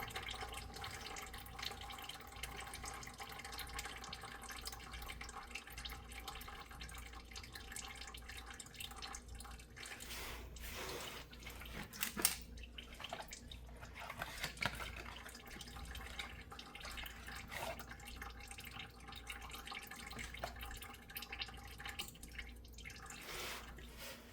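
Engine oil draining from a Ford F-150 5.0L V8 during an oil change, a faint, steady trickle and occasional drips under a low hum, with no talking.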